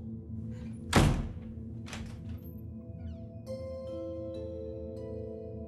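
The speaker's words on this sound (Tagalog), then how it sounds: "Huling sinabi lang sa akin ni Weng bago niya ako pinagsaraduhan ng pinto." A door is shut with one solid thunk near the start, followed by a softer knock, over a steady low hum and faint background tones.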